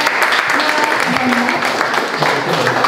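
Audience applause at a public discussion on artificial intelligence in media in Indonesia, a loud, continuous wash of clapping hands filling the whole stretch, with faint murmuring voices mixed underneath.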